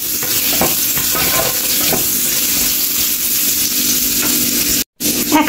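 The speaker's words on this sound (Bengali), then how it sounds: "রসুন কুচিটা দেওয়ার পর আমি 1 মিনিট ভেজে নেব" Chopped garlic frying in about two spoonfuls of oil, a loud steady sizzle with intermittent scraping and stirring of the pan up close, briefly cut to silence near the end, no talking.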